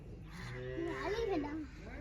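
A buffalo on a village farm lets out a single drawn-out, wavering low moo, fairly close, over a background murmur of people talking.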